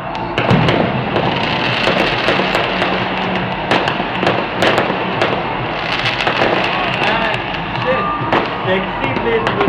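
New Year fireworks over Bangalore, India, heard from a 14th-floor height: a dense, continuous crackle and boom of many distant and mid-range bursts with sharp pops scattered throughout, alongside faint voices.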